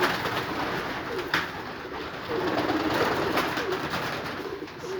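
Domestic pigeons, young Egyptian Ghazar squabs already feathered, coo softly in a crowded loft, a low steady murmur of overlapping calls under a constant noisy room hiss with no talking.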